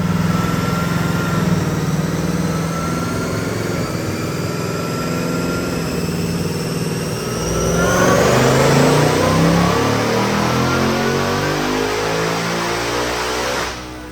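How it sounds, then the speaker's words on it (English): A supercharged 2024 Mustang automatic, a Roush Launch Edition with an 81 mm pulley, makes a loud dyno pull, its engine rising steadily in pitch with a whining supercharger and then roaring harder near the top before cutting off. "Check out this pull right now. We're at the 81 millimeter pulley."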